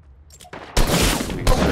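Gunfire in Fortnite, with a dense burst of rapid shots erupting loudly after a quieter lead-in, then a second sharp volley near the end.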